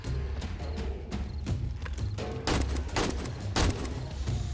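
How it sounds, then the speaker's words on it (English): Rapid automatic turret gunfire from the video game 7 Days to Die, with bursts of sharp cracks that repeat and grow louder and denser toward the end, over steady background game noise. "We got some more turret action helping out."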